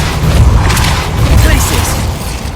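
A Depulso repelling spell cast in the game Hogwarts Legacy: a dense, loud whooshing blast with booming low rumble and crackly mechanical texture, sustained over a couple of seconds against busy game background noise.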